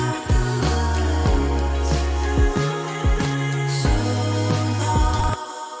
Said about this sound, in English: these loops and samples within a VST that they offer by that company Output